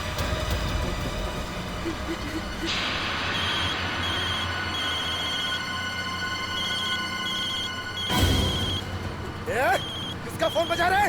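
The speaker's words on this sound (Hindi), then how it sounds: "किसका फोन बजा?" A mobile phone rings aboard a bus during a hostage standoff in a CID episode, its steady electronic ringtone sounding through the middle of the clip over road rumble, with bursts of noise near the end.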